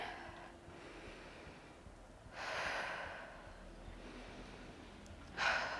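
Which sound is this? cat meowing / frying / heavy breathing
heavy breathing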